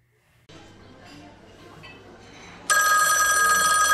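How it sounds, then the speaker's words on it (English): A telephone bell starts ringing abruptly after some quiet background sounds, a loud sustained electronic ring that continues to the end. "Hey, UCan, the phone's ringing again."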